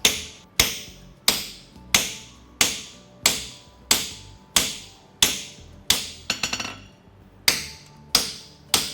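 A hammer strikes a fuller again and again to crease a Mustad LiBero horseshoe near the nail holes. There are about thirteen sharp, ringing metallic blows at a steady rhythm, loud and close, with no talking.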